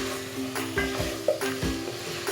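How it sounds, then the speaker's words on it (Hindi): Cauliflower, potato and tomatoes fry in a pan, a steady sizzle broken by several scraping stirs of a spoon against the metal. "टमाटर भी ऐड कर दूँगी। मैं इसे 5 मिनट तक फ्राई करूँगी"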